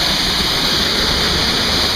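A waterfall in the Finger Lakes region roars close by, a loud, unbroken rush of falling water that fills the whole stretch with no voices.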